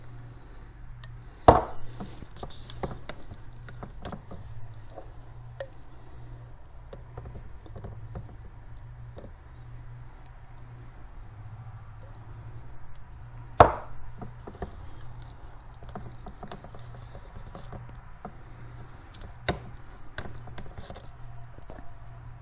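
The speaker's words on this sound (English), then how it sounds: "We're going to take Crisco and we are going to scoop it into this container" Crisco shortening is scooped into a container for a homemade candle, heard as quiet scraping and soft taps with a few sharper knocks against the container in an otherwise hushed room.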